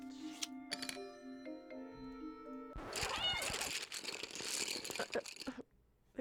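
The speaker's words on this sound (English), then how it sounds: "The cat absolutely just swiped those way off the table." A cartoon cat in the puzzle game A Little to the Left swipes small objects off a table. A bright chime melody gives way to a jumble of rattling, clattering and crinkling effects with a cat cry mixed in, all fairly close.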